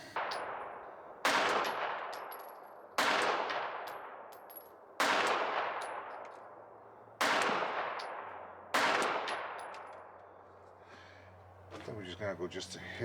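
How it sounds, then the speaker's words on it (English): Shots are fired while testing a Holosun EPS red dot sight: five sharp, loud gunshots at roughly even intervals, each with a decaying echo, followed by brief rattling and handling at the end. "Let's fire a few more shots."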